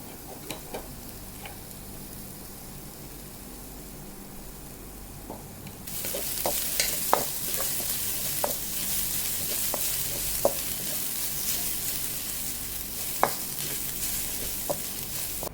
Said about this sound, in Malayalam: ഇനി അടുത്ത് നമ്മളെടുത്ത് വെച്ചിരിക്കുന്ന തേങ്ങ ഇതുപോലെ ഇട്ട് കൊടുക്കുകയാണ് ഇതിലേക്ക് നമുക്ക് കുറച്ചൊന്ന് നെയ്യിട്ട് കൊടുക്കാം